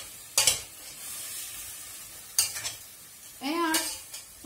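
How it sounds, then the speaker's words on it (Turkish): Green beans stir-fried in a pan, with a soft sizzle under three bursts of spatula scraping and clattering against the pan, close by and with no talking. "İçerisine fasulyelerimi atıyorum ve 15 dakika kavuruyorum karıştırıp."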